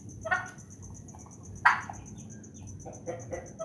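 Short bursts of Brahma chicken clucking from a four-month-old bird, a few separate calls spread over a steady low background rumble, moderately close.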